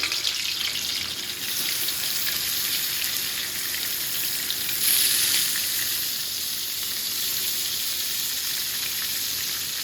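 Fish rubbed with salt and turmeric frying in a pan, a steady close crackling sizzle that continues evenly throughout with no talking.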